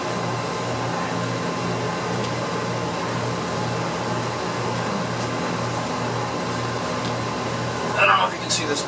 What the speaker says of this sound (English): This here is the air conditioner pump. It just kicked on, bringing the water.